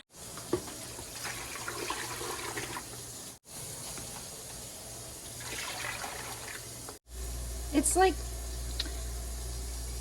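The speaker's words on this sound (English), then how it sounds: "Then you're going to add water." Water pours and splashes into a metal pressure canner holding jars, in several bursts separated by brief pauses, while a person talks over it.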